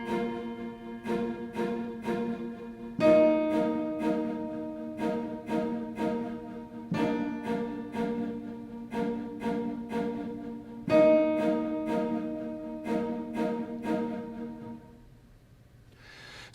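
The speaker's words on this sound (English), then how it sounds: "I've applied an arpeggiator to it to give it that pulse that you hear" Synth strings patch, Power Strings Dynamic Pop, driven by an arpeggiator into a steady rhythmic pulse as held chords change every few seconds, playing a worship keyboard part alone, fading out at the end.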